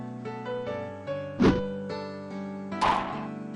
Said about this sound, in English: Solid thwack rang throughout Hinamizawa, as if the job was being done by a lumberjack